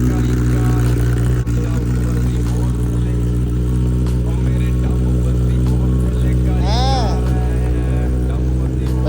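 A loud Kawasaki ZX-10R motorcycle engine, seatless, idles and revs in a steady, throbbing drone, close by, with a brief voice heard over it.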